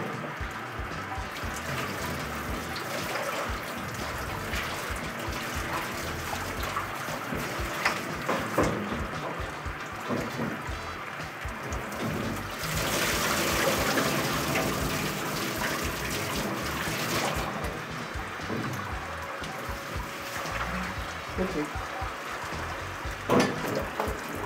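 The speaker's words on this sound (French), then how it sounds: "Tout est bien propre, on va le rincer." Running water rinses the inside of a conical beer fermenter during homebrewing prep, a steady broadband rush of flowing and splashing water lasting throughout, loud and close, with slight surges midway.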